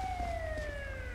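Ambulance siren in the GTA V video game, a steady wailing tone slowly falling in pitch, heard at moderate distance over a low rumbling background.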